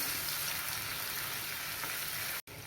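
A spice paste with coriander sautés in hot oil, a steady close crackling sizzle that holds evenly before cutting off abruptly near the end; no voices.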